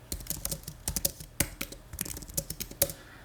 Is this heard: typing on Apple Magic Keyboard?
yes